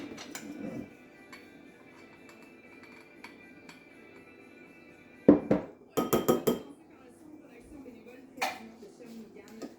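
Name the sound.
stirring relish mixture in a bowl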